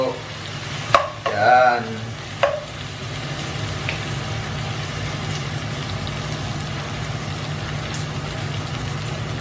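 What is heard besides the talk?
stirring hotdog, egg and vegetables in a pan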